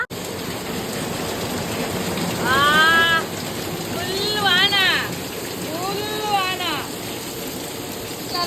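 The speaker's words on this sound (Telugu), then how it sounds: "ఈ రోజు ఫుల్ గా వాన పడుతుంది।" Steady heavy rain hisses throughout in Santa Cruz, Mumbai, while a person talks over it in three short bursts, the downpour continuous and fairly close.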